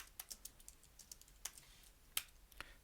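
Faint, quick computer keyboard tapping while writing React code for an audio player, an irregular patter of light keystrokes with one sharper click near the end, no talking.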